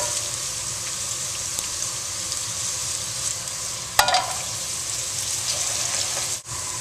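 Okra fries in a smoking hot pan, giving a dense, even sizzle like light rain throughout, with a brief clatter as the pan is shaken partway and a short dip near the end.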